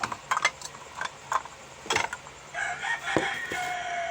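A rooster crows in the distance among scattered clucks and clicking noises, followed by a drawn-out crowing call near the end.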